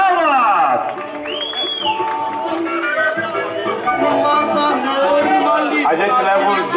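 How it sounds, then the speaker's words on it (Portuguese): Guests at a family birthday party clap and cheer in a lively, close mix of whoops and chatter, with people talking over the noise throughout. "Uma salva de palmas!"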